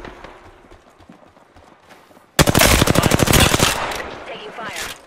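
Apex Legends gameplay gunfire: after quiet background game sounds, a sudden loud burst of rapid automatic weapon fire rattles on for over a second, followed by fainter echoing shots and game effects.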